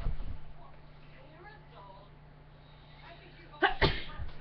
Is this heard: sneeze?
yes